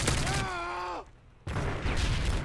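Bursts of ACR assault rifle fire in a first-person shooter, loud and dense, broken by a brief quieter gap before the shooting resumes, with harmonic game or voice tones in between.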